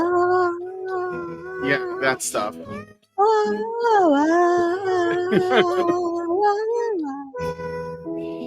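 A recorded song sung entirely in cat meows, with long wailing, pitch-sliding meow notes that rise and fall like a melody, played loud with brief talk over it.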